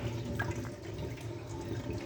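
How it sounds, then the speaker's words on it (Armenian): Water drains steadily from a Squirrel DD24-B5 gas boiler, a continuous soft gurgling trickle close by with no voices. "Դատարկում ենք կաթսան այս տարբերակով"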